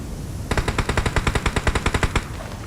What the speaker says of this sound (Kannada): ಪಟಾಕಿ ದಮ್ಮಂತು